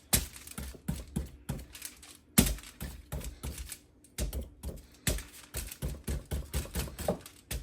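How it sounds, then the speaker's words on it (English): A fork stabbed repeatedly all over a raw potato, sharp clicking jabs in a quick, uneven rhythm with short pauses, close and fairly loud. "I take my tater and I stab it"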